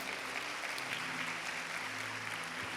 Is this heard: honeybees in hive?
no